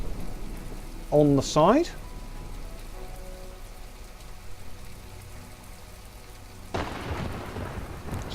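Rain and rumbling thunder from the video game From The Depths fill the background as a steady wash, with a brief burst of game sound effects early on and a louder crack of thunder swelling near the end; a voice speaks briefly.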